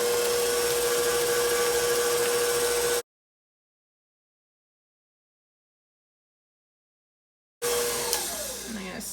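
An electric mixer runs on cupcake batter with a steady motor whine, stops completely for several seconds of silence, then starts up again.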